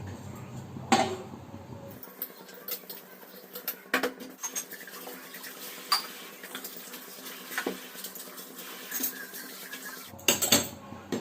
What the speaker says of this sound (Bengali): তার আগে একটু বাসন কটা ধুয়ে নিই